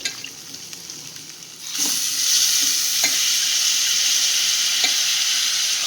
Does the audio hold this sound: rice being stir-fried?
yes